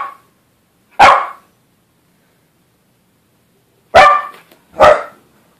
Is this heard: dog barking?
yes